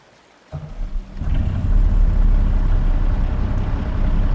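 Kenworth semi truck in Farming Simulator 22 starting up and settling into a deep, steady diesel rumble, loud and continuous after a brief quiet start.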